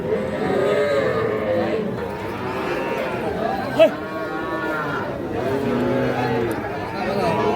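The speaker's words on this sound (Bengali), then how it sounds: "আমরা পাশে দেখলাম বকনা বাচ্চা, আর এ পাশে হচ্ছে এগুলো ষাঁড় বাচ্চা।" Cattle and young bull and heifer calves moo repeatedly at a crowded Bangladeshi livestock market, the calls rising over a constant murmur of voices and crowd chatter, with one sharper close call standing out midway.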